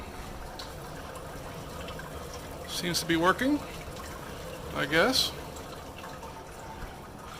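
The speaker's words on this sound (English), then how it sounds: "HLT connected and sparging" Hot water sparges through malt in a Brewtools B40/B80 brewing system, making a soft, steady trickle and splash. Someone speaks briefly over it.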